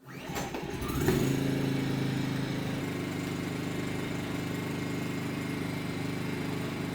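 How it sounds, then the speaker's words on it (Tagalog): Philking inverter generator engine pulled into life with its recoil starter: a short burst of pulls and a catch about a second in, then it settles into a steady, loud, continuous running drone with no talk. "I-choke at hihilahin natin yung recoil starter."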